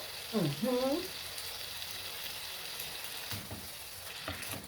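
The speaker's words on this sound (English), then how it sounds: "Hear that sizzling?" Steady frying sizzle from vegetables in a hot pan, soft and continuous, with a brief high tonal sweep near the start.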